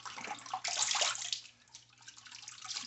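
Tap water splashes and trickles at close range as a face is re-wet during shaving, a brief burst of splashing followed by softer running water, with no talk.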